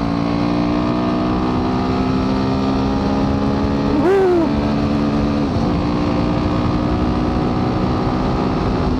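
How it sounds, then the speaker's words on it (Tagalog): Motorcycle engine running steadily on a Himalayan road with a noisy timing chain, a continuous close mechanical drone with a brief rev rising and falling midway. "Naririnig ko na nga yung timing chain itong motor ko."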